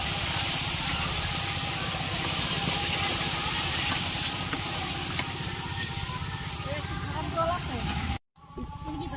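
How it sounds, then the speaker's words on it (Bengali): Meat sizzles and hisses steadily in hot oil spiced with bay leaves, dried red chillies and whole garam masala, a loud continuous frying noise with voices talking under it, cutting off abruptly near the end. "ফোড়নে দিয়ে দিল মাংস।"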